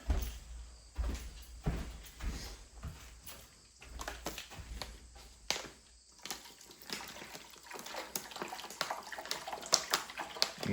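Water poured and splashing into the trough of a Tormek sharpening stone before sharpening a MAC knife, a continuous close rushing pour with knocks and handling noises mixed in.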